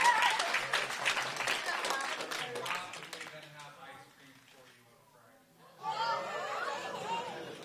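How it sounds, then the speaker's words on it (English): Audience at a press conference claps for departing guests, a moderate burst of clapping that fades into murmuring chatter, with children's voices rising again near the end. "Let's give them a round of applause and let them exit first."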